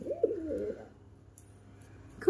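Near and fairly loud, Lakshmi fantail pigeons kept at a home let out one short throaty coo, then fall almost silent apart from faint background noise.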